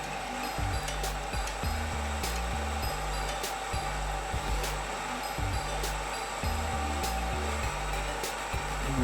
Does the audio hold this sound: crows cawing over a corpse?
no